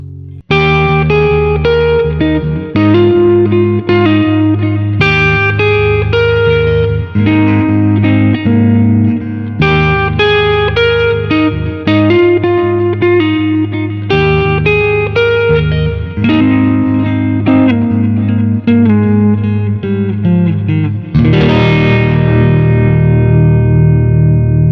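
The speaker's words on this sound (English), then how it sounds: "Let's crank up a bit of the reverb and delay." Electric guitar playing chords and single notes, drenched in reverb and delay, with echoing repeats trailing behind each phrase; loud and continuous, no voices.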